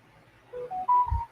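A short run of telephone dialing tones: three or four clean beeps step upward one after another, fairly quiet, with no voices.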